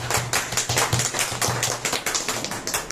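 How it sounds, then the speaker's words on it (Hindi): A group of people clapping steadily in a quick, rhythmic beat, close and fairly loud, with no talking. "तालियों से।"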